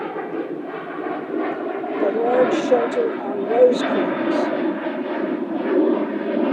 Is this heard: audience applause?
no